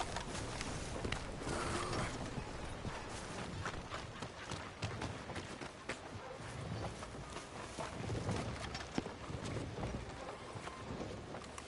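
Horse hooves clip-clop steadily in Red Dead Redemption 2 as the animal moves along at pace, a continuous rhythmic beat under ambient game noise, with no talking.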